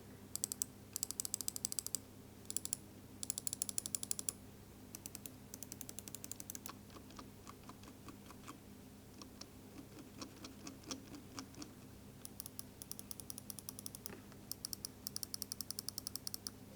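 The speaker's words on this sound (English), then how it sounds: "Here's a listen to the clicks." Rapid, crisp clicks from the buttons of a lightweight gaming mouse, clicking in quick bursts and irregular runs, close-up and isolated with no talk.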